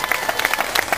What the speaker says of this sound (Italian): l'applauso per Fabio Taborre